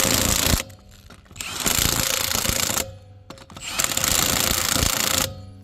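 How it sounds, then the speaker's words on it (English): An 18-volt Milwaukee cordless impact tool tightens lug nuts on a Chevy Colorado wheel in a cross pattern, giving two loud, sustained hammering bursts separated by short pauses, close by and with no talking. "18 volt Milwaukee. Tighten in a cross pattern."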